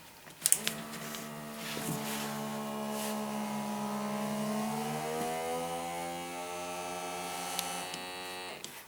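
Two Shijing P618 automatic pump suction cups run at the same time with a steady, close mechanical whirring hum. Their tones slowly shift in pitch, with a click at the start and a few small clicks later.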